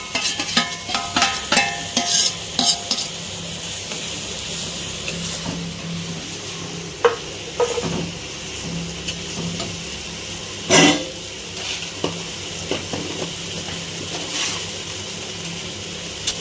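Spicy curry bubbling and sizzling in a pot, with intermittent clinks and scrapes of a spoon stirring against metal, close and fairly busy.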